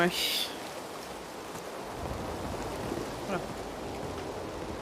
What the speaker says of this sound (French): Oui, c'est la tempête carrément.